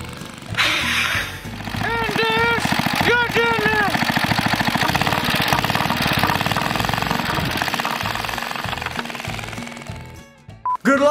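A small engine fitted to a homemade motorized tricycle runs with a loud, rapid, rattling chug that holds steady nearly throughout, with voices talking over it.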